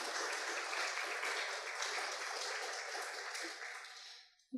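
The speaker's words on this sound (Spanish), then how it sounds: "Aplausos, por favor." Steady audience applause for a literary panel at a public talk, a dense wash of many hands clapping at an even level that thins and fades out toward the end.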